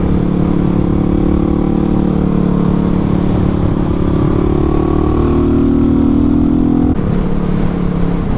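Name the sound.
Yamaha WR250R motorcycle riding on gravel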